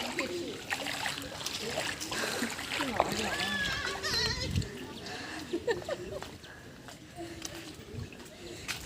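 Water splashes and sloshes across a flooded road in a residential street, a soft continuous wash of churned water with a few brighter splashes, while people talk over it nearby.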